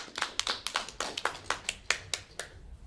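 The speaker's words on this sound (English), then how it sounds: "let's applaud." A small group applauds after a presentation, a short run of distinct, fairly quiet hand claps at an uneven rhythm, fading out near the end.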